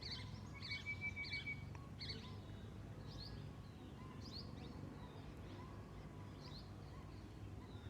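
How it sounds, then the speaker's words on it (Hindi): Birds chirp and tweet in short scattered calls over a soft, steady background hum, fairly faint and distant, on a quiet morning in the mountains of Himachal Pradesh. "पक्षियों की चहचहाहट"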